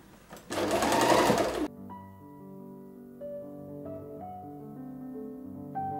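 A sewing machine stitches a straight seam around the edge of a lined picnic bag in a loud, rapid burst lasting about a second, then goes quiet apart from a soft, faint hum.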